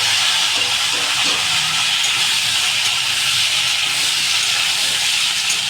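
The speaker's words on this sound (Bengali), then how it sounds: "আমি এই যে যত সবজি আছে সব একসাথে অ্যাড করে দিলাম কড়াইতে" Drumstick, potato and taro hitting hot oil in a kadai for a Bengali fish curry give a loud, continuous sizzling hiss that stays even throughout, close up and without talking.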